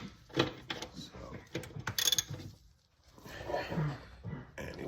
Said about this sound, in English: I just figured I'd just get a socket. It would be a lot easier.